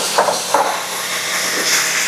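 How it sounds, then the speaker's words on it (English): Onions hit hot oil in a pan and sizzle loudly, a bright steady hiss with a few sharp crackles near the start, close up with no talking. "When they hit the oil, they should sizzle."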